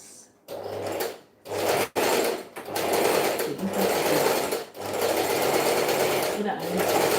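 Sewing machine stitching a garment's bust area, its rapid motor whir running in bursts with short pauses between runs, a voice talking now and then over it.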